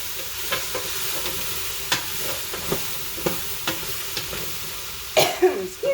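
A spoon stirs a pot of forest stew with bay leaves, giving a series of short scraping knocks at an irregular, unhurried rhythm over a low simmering hiss, close and fairly quiet.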